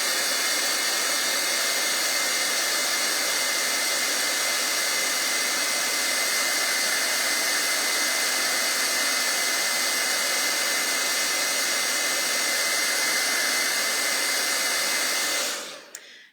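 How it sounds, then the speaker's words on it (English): A heat tool blowing on embossing powder on a card, a loud, steady whooshing fan roar held for about fifteen seconds before it switches off and winds down quickly. "Once the heat tool is heated up, it doesn't take long at all."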